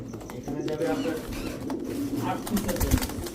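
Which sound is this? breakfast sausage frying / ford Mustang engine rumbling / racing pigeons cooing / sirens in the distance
racing pigeons cooing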